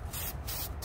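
White spray paint hisses from an aerosol can onto a Christmas tree in two long bursts with a short pause between them, loud and close, followed by the start of a third.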